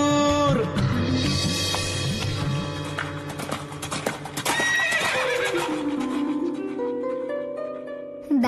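A horse in a Marathi feature film gives loud, close whinnies and neighs while its hooves clip-clop in a running rhythm, all mixed with musical accompaniment.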